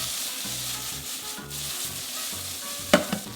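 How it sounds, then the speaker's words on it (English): Mushrooms tossed in a pan of butter while cooking for a creamy garlic mushroom tagliatelle, giving a steady soft sizzle with scraping stir strokes and a couple of sharp clinks near the end. "Just going to give them a bit of a toss."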